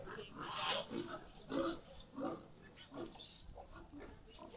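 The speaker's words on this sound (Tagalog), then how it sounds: "Ayun na yung mga alagang baboy ng mga ninang ano." Pigs kept on a farm in the Philippines, raised for sale at fiesta time, grunting and oinking at close range in short repeated bursts, mixed with people talking nearby.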